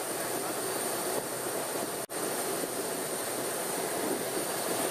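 A Pilatus airplane in flight with its door open at 10,000 feet gives a loud, steady engine-and-wind roar, broadband and unbroken apart from one brief dropout midway.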